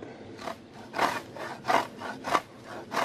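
A hand saw makes a collar cut on a tree branch, rasping through the wood in several steady back-and-forth strokes, close and moderately loud, with no talking.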